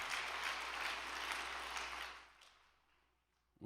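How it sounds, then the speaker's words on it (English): A congregation applauds a young man, a broad wash of many hands clapping that holds steady for about two seconds, then thins out and fades to near quiet. "why don't we give a big round of applause so that he can be victorious with his life"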